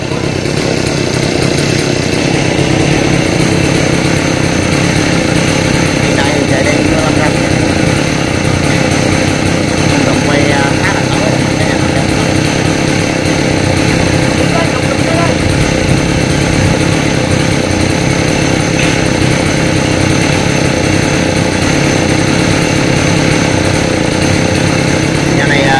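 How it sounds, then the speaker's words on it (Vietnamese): A chainsaw engine starts and revs loudly while cutting golden oak branches outdoors in light rain, a steady buzzing drone that runs throughout with no pauses, close and dominant. "Tiếng máy cưa đang giật nổ"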